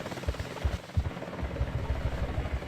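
Helicopter rotor in the game Battlefield Vietnam, a steady low throbbing chop with rhythmic thumps, close and continuous across the clip as the craft is about to crash, with no talking.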